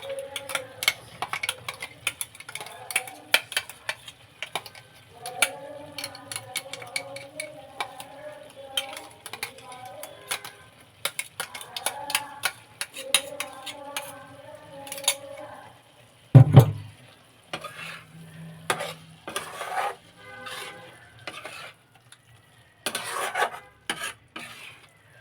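Coriander leaf paste tipped into a pan and stirred: repeated close rasping, scraping strokes of a spoon against the pan with one sharp knock midway, alternating with stretches of a voice talking.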